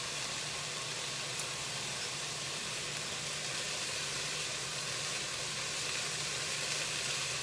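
A sweet and sour stir-fry cooking in a pan, with a steady, even sizzle and frying hiss that carries on unbroken, moderately quiet and without talk.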